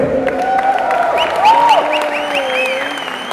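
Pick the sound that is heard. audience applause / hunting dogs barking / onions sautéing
audience applause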